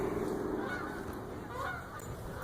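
Canada geese honk overhead in a steady flock chorus, heard from a moving bicycle in traffic with road noise underneath.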